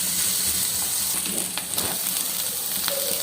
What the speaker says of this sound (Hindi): इसे अच्छी तरह फ्राई करेंगे।